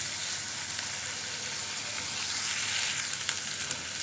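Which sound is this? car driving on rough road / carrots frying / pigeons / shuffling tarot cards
carrots frying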